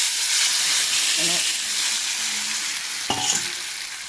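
Dried red chillies sizzle in hot oil, a steady broad frying hiss filling the whole clip with a brief clatter near the end, no talking over it.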